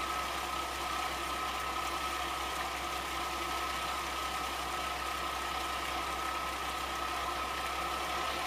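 A large 12-cylinder engine with turbos runs steadily toward 1000 RPM, a constant loud mechanical drone with a sustained whine on top, with no voices.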